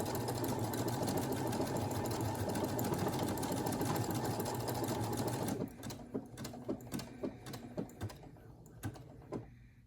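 A Brother SE1900 sewing machine stitches decorative letters on its own, running in a dense steady whir for about five seconds, then continuing as a string of separate short clicks and stitch pulses.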